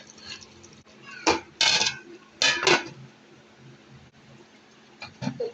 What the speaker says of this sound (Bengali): এখন ভালোভাবে একটু নাড়াচাড়া করবো, করে ঢাকনা দিয়ে ঢেকে দিব